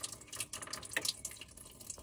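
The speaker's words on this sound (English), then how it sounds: "it drains the rest of the water off" A portable ice maker drains its leftover water after self-cleaning, a soft, close trickle and splash with small irregular drips, quiet and steady with no voices.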